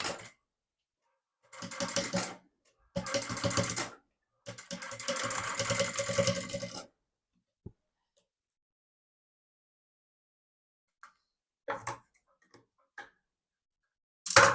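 A sewing machine stitches along a drawn line on the zipped lining of a beaded bag in three quick close bursts of rapid clatter, followed by near silence with a few faint clicks.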